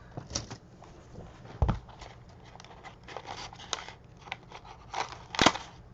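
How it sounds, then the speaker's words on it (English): Scissors snip a few times during a quick paper craft project, with sharp, irregular clicks and cuts alongside light handling rustle, fairly close and moderately quiet. "Let me get my scissors."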